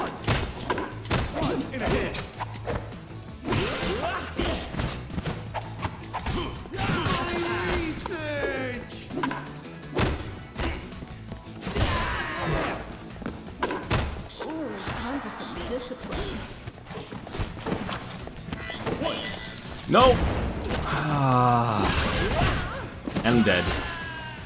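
A bomb thrown and exploding in Double Dragon Neon, heavy thuds and slams amid busy game music and effects, with a person talking over much of it.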